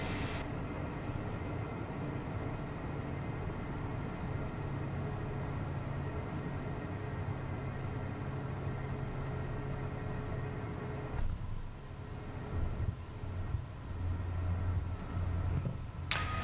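Twin jet engines of a Beechcraft Premier hum at idle during landing rollout on a runway, a steady low cabin drone with faint rattles and bumps near the end.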